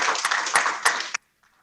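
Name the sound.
audience applause for Pak Geri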